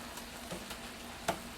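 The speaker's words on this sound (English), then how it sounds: "Rather than having that hissing, boiling sound, it's starting to get a sizzling sound because the water is" Clam sauce sizzling in a pan as the last of its water cooks off, a low steady frying crackle with a few brief louder pops, alone and fairly quiet.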